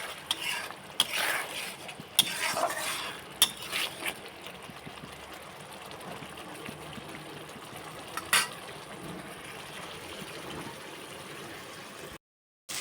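Green peas sizzle in hot oil with spice paste while being stirred for vegetarian matar paneer, with a steady fry hiss, intermittent clinks and scrapes of a spoon against the pan, and a brief cut at the end.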